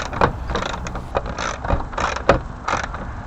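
Mechanical clicks and scrapes from unthreading a bonnet catch bolt on a Suzuki Wagon R, in short irregular bursts close to the mic with no talking.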